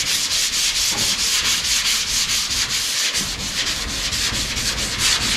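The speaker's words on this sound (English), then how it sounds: "We're gonna start sanding some of this stuff back." Paint is wet-sanded by hand with 320 grit sandpaper, producing a close, steady rhythmic scrubbing of quick back-and-forth strokes that continues without pause and without talk.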